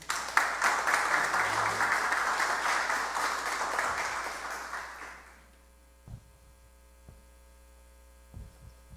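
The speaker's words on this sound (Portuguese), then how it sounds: "Vamos recebê-lo com uma bem-vinda salva de palmas" Room applause at a municipal council session in Poá welcoming the committee president, sustained clapping for about five seconds over a steady mains hum, then dying away to quiet with a few faint knocks.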